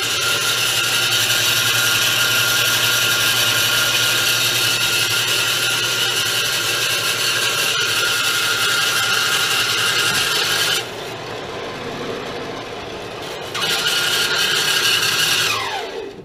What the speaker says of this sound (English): let's go ahead and see how the bandsaw is progressing